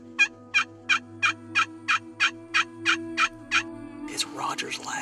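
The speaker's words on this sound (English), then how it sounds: "we got a big gobbler. He's walking right to us right now" A big wild turkey gobbler gobbles about eleven times in a quick regular series during a turkey hunt, loud and close, followed by rustling movement at the end.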